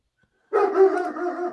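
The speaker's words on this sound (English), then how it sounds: "Oh, dog." A dog gives a single drawn-out bark that slides into a whine, fairly close and clear after a moment of near silence.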